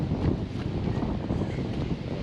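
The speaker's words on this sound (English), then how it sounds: "very windy today." Strong gusts buffet the microphone outdoors, producing a continuous rough low rumble that swells and dips, with no one talking.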